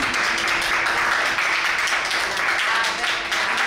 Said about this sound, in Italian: E adesso facciamo un applauso.